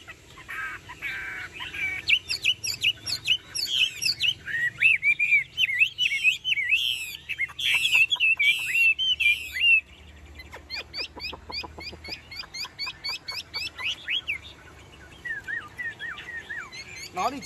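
A caged Chinese hwamei songbird with a spread tail sings loud, rich phrases of whistles, trills and rapid chirps, continuous and close, with faint background noise.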